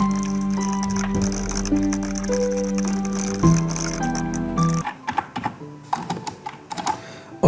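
Keys on a computer keyboard are tapped in irregular bursts while text is entered for a professional CV, first under background music, then clearer clicks alone.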